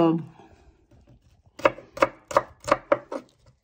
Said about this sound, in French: Donc, le petit oignon. On coupe, vous voyez,